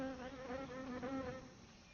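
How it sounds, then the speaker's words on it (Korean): A honeybee buzzes close by among blooming flowers, a steady droning hum that wavers slightly in pitch, then eases off toward the end. "꿀벌도 나타났군요."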